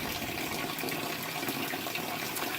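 Water from a garden hose splashing indoors, a steady, hissing spray with no break across the short stretch.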